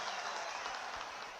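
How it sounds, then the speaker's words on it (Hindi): A large outdoor political rally crowd in Jammu and Kashmir applauds, making a continuous roaring wash of clapping that sounds fairly distant and steady throughout. "दोनों के लिए जोर से ताली बजाइए जरा"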